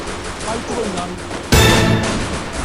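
A G18 pistol fires in the Free Fire video game, a sudden loud burst of rapid shots midway through, heard under and alongside excited talking.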